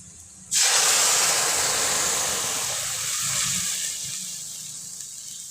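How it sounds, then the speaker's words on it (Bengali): Dal poured into a hot pan of fried garlic and spices hits with a sudden loud hiss and sizzle, a steamy spitting rush that slowly eases over several seconds. "এর মধ্যে ডালটা দিয়ে দেব।"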